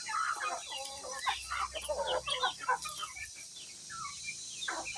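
Several chickens clucking and calling inside a cage, a dense, busy stream of close bird noise with occasional louder squawks and a faint voice mixed in.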